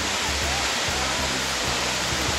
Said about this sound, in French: La cascade Niagara,